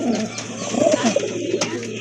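A pair of Danish pigeons, white tiger coloured, coo softly in a brief, close burst of low warbling calls over light background noise.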